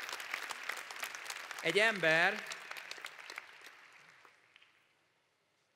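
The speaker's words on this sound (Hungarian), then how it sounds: "neki is kérek szépen egy nagy tapsot" Audience applause from a crowd, a steady wash of clapping that fades out toward the end, with someone speaking briefly over it.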